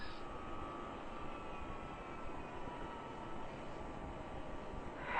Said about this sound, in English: Right now, Jet Flight 801 is approaching the gate where passengers for San Francisco will board the plane.